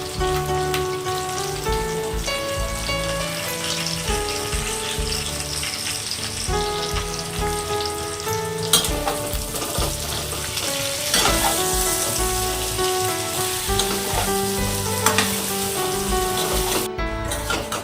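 Cumin and turmeric powder sautéing in hot oil for a Bengali hilsa fish curry with raw banana, a steady close sizzle and crackle with a brief louder flare midway, no talking.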